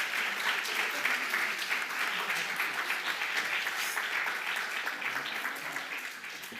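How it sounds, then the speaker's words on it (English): Audience at a community launch event giving a round of applause, broad continuous clapping from a crowd in a hall, moderately close, slowly easing toward the end. "Would you give them another round of applause?"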